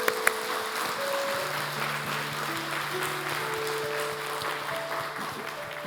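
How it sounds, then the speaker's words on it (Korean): A congregation at Sejong Hanbit Church claps for newly baptized members during a Friday prayer service. The steady applause runs for several seconds under sustained tones, moderately loud and even. "큰 박수로."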